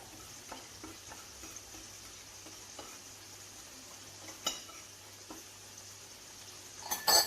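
Food in a frying pan being stirred, a low sizzle under soft scraping strokes of a utensil, with a louder clink and clatter of cookware near the end.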